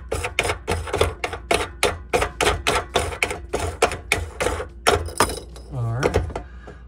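Rapid clicking, ratcheting plastic-and-metal sounds of a faucet sprayer hose connection being twisted and loosened under a kitchen sink, close and fairly loud, with a brief squeaky creak near the end.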